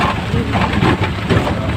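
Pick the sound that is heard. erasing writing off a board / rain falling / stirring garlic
rain falling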